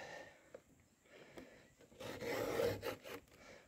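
A hand file rasps across the teeth of a chainsaw chain during sharpening. The strokes start faint and grow louder and more scraping toward the end, close by, with no talking.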